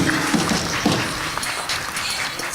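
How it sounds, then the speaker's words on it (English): Audience at a college athletic alumni reunion applauds a Hall of Fame inductee, a steady wash of clapping throughout the short stretch with faint crowd noise. "Come on, let's give him a nice round of applause."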